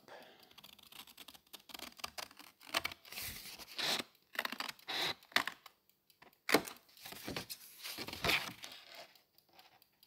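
Paper is cut off a card-making sheet with Stampin' Up craft supplies: a string of quick, crisp snips and rustles, irregular and fairly close, with brief pauses between cuts.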